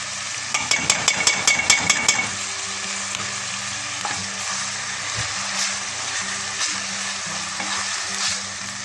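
Garlic and a spoonful of tomato paste sizzle in a pot for Turkish lentil soup, with a quick run of sharp stirring taps early on, then a steady close frying hiss with occasional utensil clicks.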